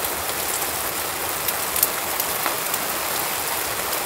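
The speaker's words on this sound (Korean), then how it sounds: "지금 빗소리 때문에 목소리가 안 들릴 수도 있어." Steady rain falling outdoors, a dense even hiss of drops with a few sharper patters, continuous and fairly close.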